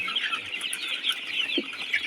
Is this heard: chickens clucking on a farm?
yes